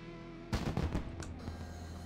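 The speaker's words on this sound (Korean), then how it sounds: "여기 뭐 폭죽이 뭐 계속 터지고 있는 아주 신기한 곳이네요" Fireworks burst in World of Warcraft's lunar festival at Moonglade, a booming cluster of a few quick explosions at moderate distance, then a fainter pop trailing off.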